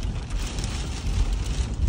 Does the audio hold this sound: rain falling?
yes